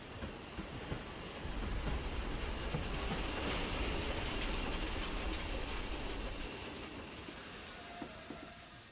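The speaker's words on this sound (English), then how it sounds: "It was a stopping train and the time dragged on, but eventually they reached the second to last station." A stopping train runs steadily along the rails, a dense rumbling roar with hiss and faint clatter that holds loud and close for several seconds before easing slightly toward the end.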